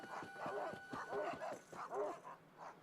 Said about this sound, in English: That dog is barking at a chain chomp,